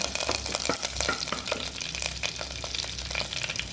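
Curry leaves crackle and sputter in hot oil for a Mangalorean prawn masala fry, a dense, close, steady sizzle dotted with sharp pops and a stirring scrape.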